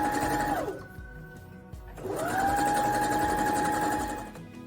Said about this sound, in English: all we're going to do with this is sew right the way around the edge, leaving the top open